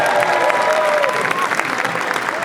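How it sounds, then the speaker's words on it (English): Audience applauding at a Tuba Christmas concert in Boston, a steady, dense wash of clapping from a large crowd that fills the whole stretch, with faint cheering tones threaded through. "let's give them, the three of them,"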